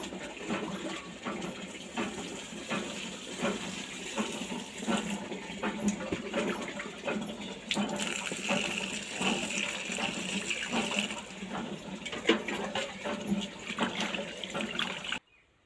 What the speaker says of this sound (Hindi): और ये तुलसी माता को पानी दे रही है मम्मी।